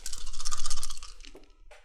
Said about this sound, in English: So we need to shuffle these.